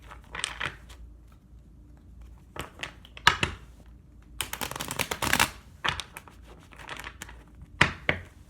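Tarot cards are shuffled in several quick riffling bursts, crisp and close, separated by short pauses.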